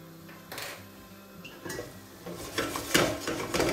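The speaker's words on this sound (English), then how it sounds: "I'm just going to turn the heat down and I'm just going to put a lid on this and I'm going to let it cook for about 10 minutes" Lid set on a pot of simmering meatballs in tomato sauce: a few light metallic clinks and scrapes, growing louder toward the end, over a quiet kitchen background, no talking.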